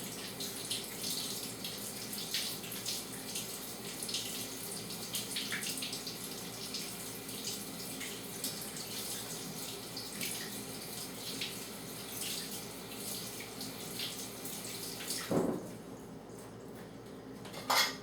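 Tap water runs steadily into a kitchen sink as russet potatoes are scrubbed by hand, with close, continuous splashing and faint clinks of dishes, ending in a brief knock as the flow stops.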